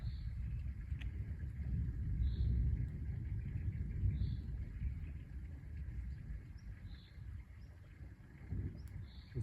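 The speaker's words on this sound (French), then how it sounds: "On a d'autres orages qui sont en train d'éclater sur Lyon encore." Low rolling thunder from a supercell storm over Lyon, a continuous deep rumble that swells and fades over several seconds, with faint bird calls above it.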